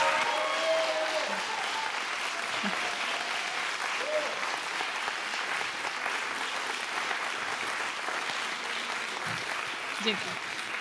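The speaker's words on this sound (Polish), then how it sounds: "jeszcze raz gromkie brawa!" Steady, dense applause fills a large hall at an awards gala in Gdańsk's Stary Maneż, sustained and moderately distant, with a few voices faintly cutting through.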